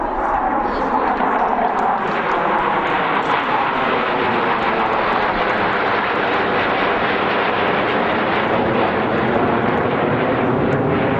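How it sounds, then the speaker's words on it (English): An Air Force plane flies over an outdoor show, its engine roar loud and sustained with a slowly shifting pitch as it passes overhead. "The plane is due over in about 2 minutes, and then we'll resume our program after it's passed over."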